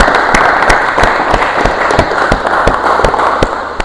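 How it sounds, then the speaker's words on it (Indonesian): A classroom of students gives a loud, sustained round of applause at close range, with dense, steady clapping throughout and a few sharper individual claps standing out. "Aplaus buat kalian semuanya."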